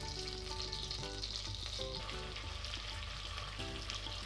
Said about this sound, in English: We melt the butter in a large saucepan and we add the onion.